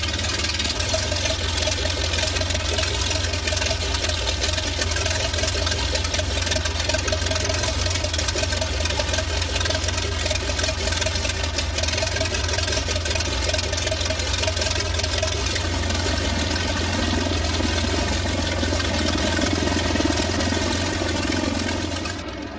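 An aircraft piston engine, just started, idles loud and close with a steady low throbbing drone and a constant mechanical hum that barely changes throughout.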